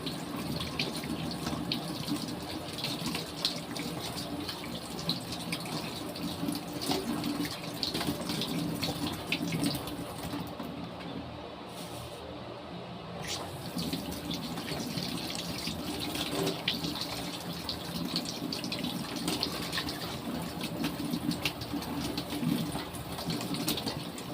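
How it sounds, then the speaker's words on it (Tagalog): Kitchen tap running steadily as vegetables are washed in the sink, a continuous splashing gush that lasts throughout, briefly dipping in the middle, with no talk. "So, hugasan lang yung mga gulay."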